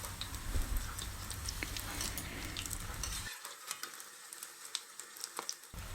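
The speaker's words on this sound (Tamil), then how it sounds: "இப்போ ஒரு சைடு வந்து நல்லா ஃப்ரை ஆகணும், அது வரைக்கும் அப்படியே இருக்கட்டும்." Green chilli bajji frying in hot oil, a steady crackling sizzle that is loud at first and then thins out, with scattered pops and no talk.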